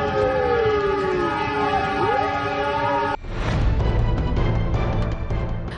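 A train sounds its horn as it approaches a level crossing where a fire truck from Haurgelis, Indramayu is stalled on the track; the loud sustained horn tones sweep for about three seconds, then give way to a heavy, rumbling roar of the passing train.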